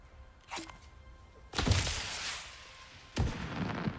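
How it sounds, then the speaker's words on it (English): In-game fireworks in God of War Ragnarok go off as a faint pop followed by two loud booming bursts with crackling, sizzling tails, spaced a second or more apart. "Some little nice fireworks there."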